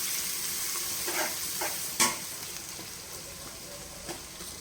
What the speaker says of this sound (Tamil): வெங்காயத்தை போட்டு நல்லா கிளறி விடுவோம்.